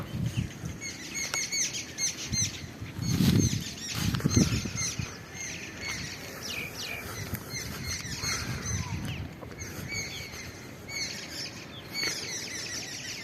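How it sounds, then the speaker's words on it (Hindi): Small birds chirping on a morning outdoors, scattered high twitters and calls at moderate distance over a low rustling ambient background, with some nearer soft thumps and movement. "पंछी जो है वो चहचहा रहे हैं"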